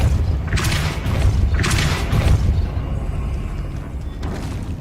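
A Depulso spell cast in Hogwarts Legacy: two loud, rumbling magical bursts in quick succession, then a fainter whoosh near the end over low game ambience.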